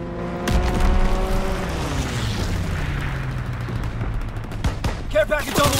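Bursts of gunfire and a fighter aircraft strafing run in the World War II shooter Call of Duty: WWII, a dense, loud rattle with descending engine whine and scattered booms, voices mixed in.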